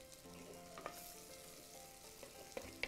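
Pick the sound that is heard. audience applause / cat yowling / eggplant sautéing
eggplant sautéing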